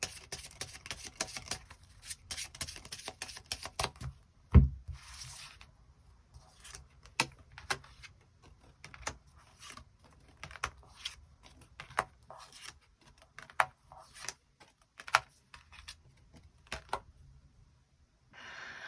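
Tarot cards being shuffled and drawn at close range: quick flurries of crisp card flicks and riffles, then scattered soft taps and slides of individual cards in an otherwise quiet room.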